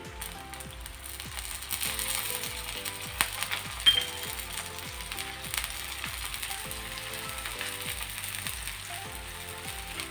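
Ragi roti frying in a little oil in a pan over a medium flame, a soft continuous sizzle with faint scattered crackles and light clinks, fairly quiet and without voices.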